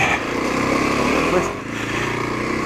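A Kawasaki KLX250SF dual-sport motorcycle idling and rumbling steadily up close while being parked, its engine note dipping briefly partway through, with wind noise and a voice talking over it.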